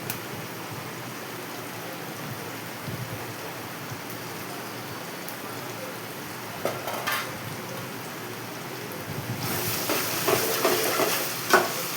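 Country chicken fries in a little oil, giving a low, steady crackling sizzle that stays quiet and then swells brighter and louder near the end, with no talk over it.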